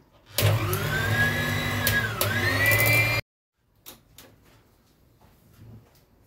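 Electric hand mixer whipping lemon cream for a karpatka (Carpathian cake), running loudly and steadily for about three seconds with a pitch dip midway, then cutting off, followed by faint kitchen clatter.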